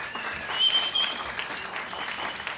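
Audience applause at the Uptown Folk Club's last gig at Expressionz, a steady, dense clapping that holds at an even level throughout, with a few voices faintly mixed in.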